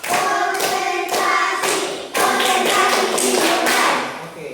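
A series of sharp hand claps in a classroom-style counting exercise, spaced irregularly over a steady tonal background, fairly close and moderately loud.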